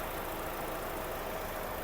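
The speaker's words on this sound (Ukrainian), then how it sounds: "двигун працює з включеним кондиціонером досить гарно, рівненько" A 2006 Audi A4 B7 1.6 MPI car engine idles steadily and evenly, a smooth continuous hum with a faint broadband hiss of running air conditioning over it, no voices.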